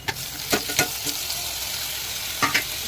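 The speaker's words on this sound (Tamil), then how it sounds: "இப்போ வந்து தக்காளி போட்டுக்கலாம்" Tomatoes sizzle in a pan over sautéed onions as they cook for a chickpea curry, a steady hiss and crackle broken by a few sharp clacks of a spoon stirring, with no voices.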